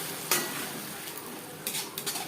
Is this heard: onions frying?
yes